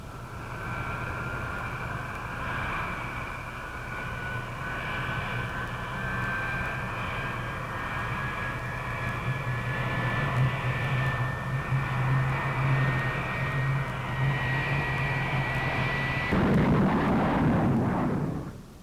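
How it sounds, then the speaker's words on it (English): A jet aircraft dives at high altitude past the speed of sound, giving a long, steady whining engine drone that suddenly breaks into a loud, rumbling roar near the end as it pulls out. "when we go into our dive, you can tell when we outrun our sound, and when it catches up to us again as we pull out"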